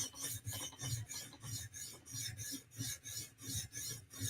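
A custom knife edge is drawn across a sharpening surface to reduce the burr, producing a series of rhythmic, evenly spaced rasping strokes, about a dozen in quick succession, close and fairly quiet.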